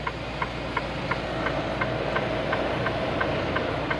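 A freight truck's steady low engine idle rumbles throughout, with a faint regular ticking repeating about every half second over the drone.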